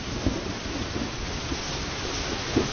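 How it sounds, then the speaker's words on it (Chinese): Heavy rain falls in a dense, steady roar with low thunder rumbling underneath and a couple of soft thumps, heard as a muffled, continuous storm. "很闷，打雷下雨，"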